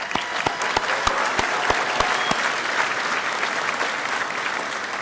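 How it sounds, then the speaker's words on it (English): Audience applause at a 2022 high school graduation ceremony, a dense burst of many hands clapping with sharp individual claps near the start, sustained evenly across the hall. "Please give them a round of applause."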